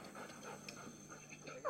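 A dog pants in quick, rhythmic breaths, faint and close, with a low background hum.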